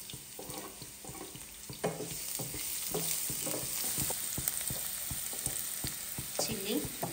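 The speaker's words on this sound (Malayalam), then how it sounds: "ഉള്ളി ആഡ് ചെയ്യുന്നു," Chopped onions sizzle steadily in a hot pan while fried rice is being made, a constant close hiss broken by frequent light clinks and scrapes of a stirring utensil.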